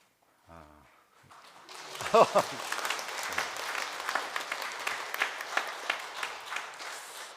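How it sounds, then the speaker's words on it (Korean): A church congregation applauds during a Sunday morning worship service, the clapping swelling in after a brief spoken word and then holding as a moderate, steady wash of many hands. "이렇게 박수 쳐주시는 교회는 처음인 것 같은데요"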